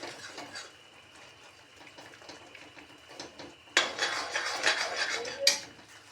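A utensil stirs shakkar (jaggery sugar) in a pot to dissolve it for sesame laddu, scraping and clinking against the metal: quiet at first, then louder and busier, with a sharp clank near the end.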